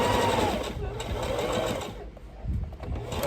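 A sewing machine back-stitches over elastic on fabric, its motor buzzing close and loud, slowing and pausing partway before starting a brief fresh burst, with a voice talking over it.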